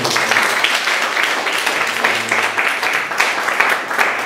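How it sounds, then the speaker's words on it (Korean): A congregation at a New Year fasting revival meeting gives a round of applause to thank the guest pastor: a full, continuous patter of clapping from a roomful of people, fairly loud and steady throughout, without talk. "우리 수고하신 강사 목사님께 감사의 박수 한번 올려드립니다"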